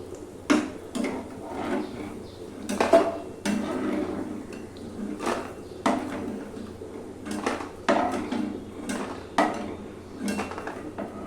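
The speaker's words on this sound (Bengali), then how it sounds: "এবার বড়িটা তুলে নিচ্ছি।" Fried lentil dumplings (bori) lifted out of a frying pan, a run of close, sharp clinks and scrapes of a utensil against the pan at an irregular rhythm over a low background of oil.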